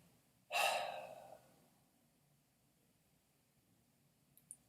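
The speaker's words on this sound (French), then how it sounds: "expire active." A single forceful, breathy exhale during sanchin dachi karate breathing practice, sharp at onset and trailing off over about a second, close and fairly loud against a quiet room, with a tiny click near the end.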